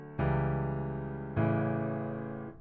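Layered piano chords from the Keyscape plugin, struck twice with slightly staggered, strummed-like onsets, each chord ringing out and slowly decaying, close and clear with no talking.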